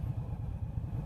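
A 2018 Indian Scout Sixty motorcycle idles with a low, steady, even rumble, close and continuous over a brief moment.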